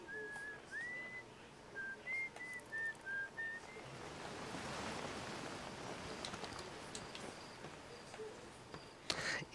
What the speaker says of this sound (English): I thought I heard whistling, but it's from the TV in the other room.